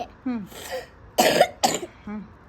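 Two sharp, close coughs in quick succession from a person with a cold, between softer throat sounds and breathy voice.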